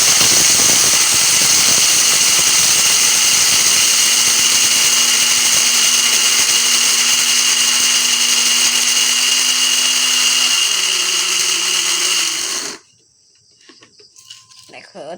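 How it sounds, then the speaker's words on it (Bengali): A cheap electric blender grinds turmeric with a steady, loud motor whine and rattling churn for about twelve seconds, then cuts off abruptly, leaving only faint handling noise. "হলুদ ব্লেন্ডার করে শেখাবো।"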